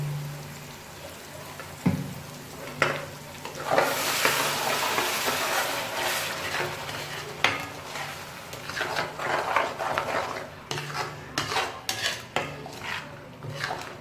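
Tomato masala roasting in ghee for dal mash, a broad hissing sizzle that swells and fades while a spoon scrapes and clinks against the pot in quick irregular strokes, no talking.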